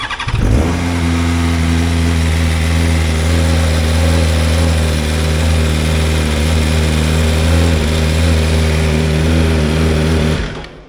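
A motorbike engine starts and settles into a loud, steady running drone with a strong low hum, continuing close and unbroken for about ten seconds before cutting off.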